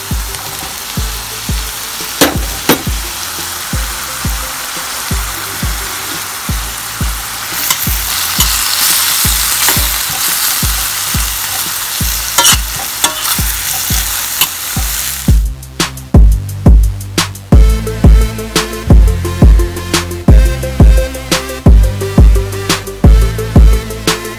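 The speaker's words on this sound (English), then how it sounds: "We're going to add the chorizo sausage meat." Chorizo sausage meat sizzles and fries loudly in a pan, with steady crackling, repeated stirring scrapes and sharp utensil knocks in the latter half.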